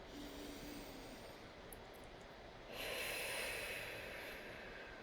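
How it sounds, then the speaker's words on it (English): After a near-silent pause, one slow, deep breath is drawn in close to the microphone in a quiet room, a soft airy rush that swells and lingers. "Take a nice deep breath."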